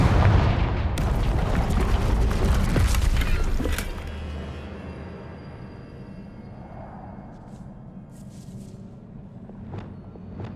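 A Confringo spell blast in Hogwarts Legacy: a loud, booming burst with rumbling fire crackle that holds strong for about four seconds, then drops to a low lingering rumble with faint scattered clicks.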